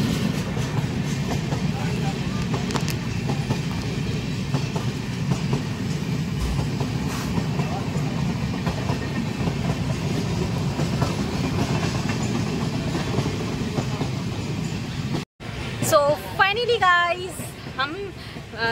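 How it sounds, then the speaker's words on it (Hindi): A passenger train from Howrah to Durgapur rolls steadily along after leaving Howrah station, with a continuous rumble of wheels and carriages heard from inside. Near the end, a brief dropout is followed by a voice speaking over the noise. "ट्रेन ऑलरेडी चली गई है अपने स्टेशन से, मतलब हावड़ा स्टेशन से निकल चुकी है"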